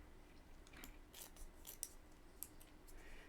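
A few soft snips from small scissors cutting a crochet appliqué, quiet and close, with faint rustling between the cuts.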